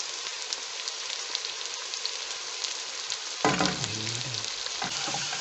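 Garlic sizzling in a pan of cooked onions, a steady dense frying hiss that swells and shifts partway through as the ingredients are stirred or added, close and continuous with no talk.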